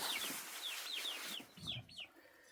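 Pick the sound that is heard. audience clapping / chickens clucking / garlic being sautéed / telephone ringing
chickens clucking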